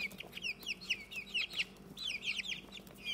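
Young chicks, hoped to be hens, cluck and peep in quick overlapping bursts, fairly close but soft, with a low steady hum underneath.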